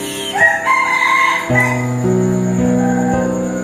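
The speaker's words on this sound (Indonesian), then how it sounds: "di saat ada suara ayam berkokok seperti yang kalian dengar" A rooster crows loudly and close, a long drawn-out call with a second bird chiming in, no talking.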